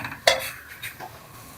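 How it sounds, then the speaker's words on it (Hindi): A spoon stirs semolina halwa roasting in ghee in a pan, with a sharp metal scrape and clink up close and soft frying hiss underneath. "इसके अंदर चम्मच हिलाते जाएंगे"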